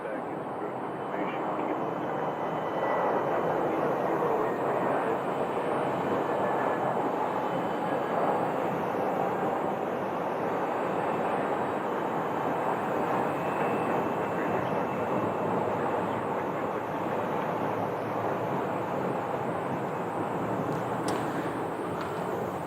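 An Envoy airliner on the ground at Phoenix Sky Harbor Airport gives off a steady, continuous roar of jet engines, droning evenly from a moderate distance throughout.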